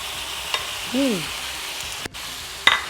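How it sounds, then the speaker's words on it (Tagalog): Sirloin beef frying in a hot pan, a steady close sizzle throughout with a couple of brief knocks and clicks of utensils against the pan. "All right, so I go ahead and fry our sirloin."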